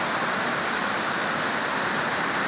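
Water rushing across the full width of a low, sloping shale waterfall on West Creek at Tuxedo Park makes a constant, full hiss and roar, unbroken and close, with no one talking.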